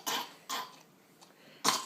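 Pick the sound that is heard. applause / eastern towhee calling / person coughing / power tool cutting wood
person coughing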